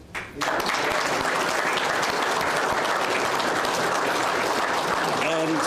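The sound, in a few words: audience applause at award ceremony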